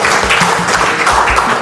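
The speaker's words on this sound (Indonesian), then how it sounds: "Tepuk tangan dulu buat 8 point system ya." Loud, dense applause fills a hall as the audience at a Kangen Water business seminar claps together, close and sustained throughout.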